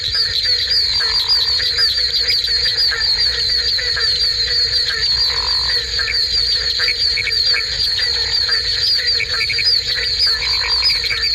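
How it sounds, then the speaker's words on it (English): Dense chorus of frogs and toads calling together in a southern Florida pond, with barking frogs and other tree frogs among them; a steady, continuous wall of overlapping trills and croaks, loud and unbroken throughout. "As many as 200 or 300 voices may be heard in a single pond in parts of southern Florida"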